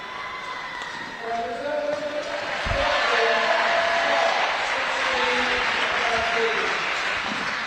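Applause and clapping from spectators at a para badminton finals day, with scattered claps swelling into fuller clapping and light crowd noise while people talk over it.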